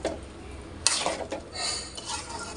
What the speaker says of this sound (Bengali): এটা এবার ভালোভাবে নেড়ে নেব।